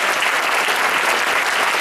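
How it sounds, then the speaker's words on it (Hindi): Loud, dense applause from an audience welcoming a guest at a motivational speech event. The clapping is continuous and even throughout, with no voices over it. "एक बार तालियां बजाकर स्वागत करें।"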